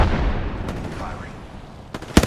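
Gunshots in a video game firefight, a few sharp cracks near the end after a stretch of low rumbling ambience, with a faint voice underneath.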